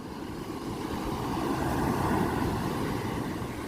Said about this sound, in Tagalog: Mataas din ang alon